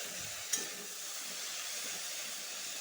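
Steady sizzling of okra and tomato frying in a pan, with a brief clink of a utensil early on as it's stirred; no voices.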